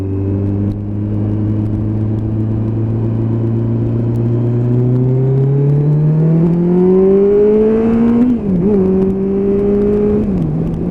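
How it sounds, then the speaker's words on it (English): A motorbike engine is opened up on the road, its loud, close drone climbing steadily in pitch over several seconds, briefly wavering, then settling and dropping slightly, with no talking. "Doesn't she sound good when she opened her up?"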